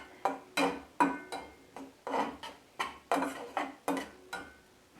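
Chicken curry masala is stirred in a pan, a close series of about a dozen scraping, clinking strokes of a spoon against metal in an irregular rhythm, alone and without talk.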